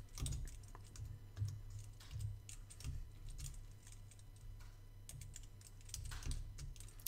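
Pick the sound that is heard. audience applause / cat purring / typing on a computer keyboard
typing on a computer keyboard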